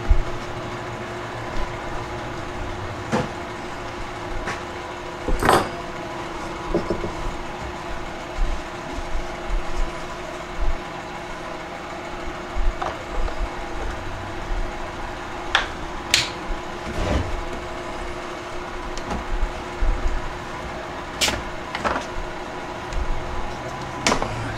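A Stihl MS 391 chainsaw, fitted with a new clutch and chain oiler, idles in a steady low drone with scattered light ticks and clicks over the top.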